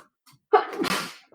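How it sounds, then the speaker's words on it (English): A single loud, close sneeze bursts out sharply after a quick intake of breath, then trails off. "Bless you."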